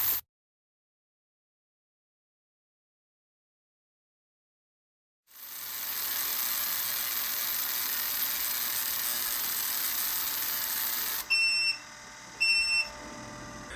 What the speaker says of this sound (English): Saying that this machine gets a little loud is a bit of an understatement.